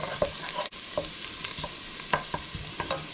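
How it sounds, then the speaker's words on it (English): Chilies fry briefly in a pan, giving a light sizzle with repeated sharp scrapes and taps of stirring at an irregular rhythm, close and fairly quiet. "So I'm just going to throw those in, and just quickly give them a little fry"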